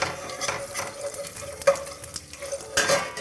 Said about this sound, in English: Put it in there, just stir it around with the mustard seeds